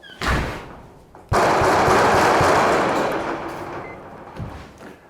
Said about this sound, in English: Door closed, banging on wall.